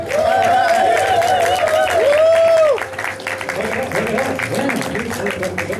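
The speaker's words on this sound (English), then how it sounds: "Can we get a round of applause here?" A crowd at a sponsoring event applauds new star agents, steady clapping running throughout beneath loud, excited speech and a shouting voice.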